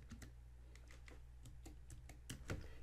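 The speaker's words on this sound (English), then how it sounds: "then I can start typing" Soft keystrokes on a computer keyboard while text is entered in Dreamweaver: a quiet, irregular run of clicks with a slightly louder cluster near the end, and no speech.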